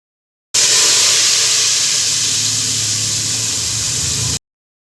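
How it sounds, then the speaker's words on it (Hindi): Cumin, bay leaf and green chillies hit hot oil for a tadka poured into kadhi, giving a loud, steady sizzling hiss that starts abruptly, holds for about four seconds, then cuts off. "ज़ीरा, तेज़पात और हरी मिर्चों को इसमें ऐड करके तकरीबन 1 से 2 मिनट फ्राई करेंगे"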